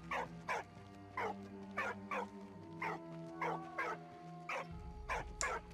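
A dog in the video game Soldats inconnus barks again and again in short, regular yaps, about two a second, clear and fairly close over a soft game music bed.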